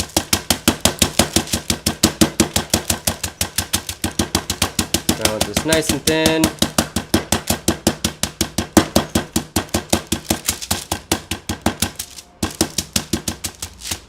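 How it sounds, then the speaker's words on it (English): A wooden mallet pounds food flat under wax paper during a live cooking stream, a fast steady run of sharp, close thumps that continues throughout, with brief talk over it. "So just malleting these out."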